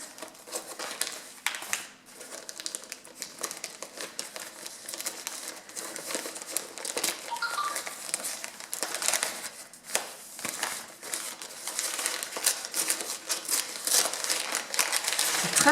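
Wrapping paper crinkles and crumples continuously as a gift is unwrapped up close, a dense, irregular rustling with sharper crackles, fairly quiet and without talk.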